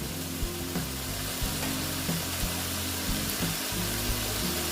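Water sizzling and frying in a hot pan of ash gourd (chal kumro) being cooked, a steady loud hiss throughout with light stirring clinks.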